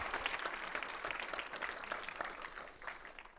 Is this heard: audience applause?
yes